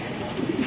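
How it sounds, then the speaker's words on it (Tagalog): Racing pigeons at a loft after a mid-distance toss race in Cabanatuan, Nueva Ecija, give a soft, low cooing over a faint background hum in a brief, quiet moment. "Mga kalapati, ayan po, dumating na po si Super Suerte."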